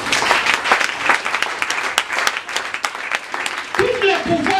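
A church congregation breaks into sustained applause and clapping, loud and dense, with voices calling out over it and a speaker's voice rising near the end.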